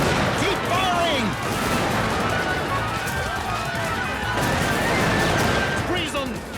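Cartoon battle with muskets and cannons firing, dense overlapping gunshots and booms mixed with shouting voices throughout.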